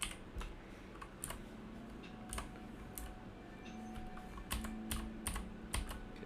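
Fingers type on a computer keyboard in quick, uneven bursts of close, crisp key clicks with brief pauses, a quiet programming session with a faint steady hum beneath.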